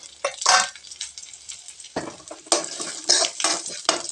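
Dried red chillies fry in oil with drumstick greens, stirred with a spoon. The scraping comes in short bursts over a soft sizzle, close by, with no talking.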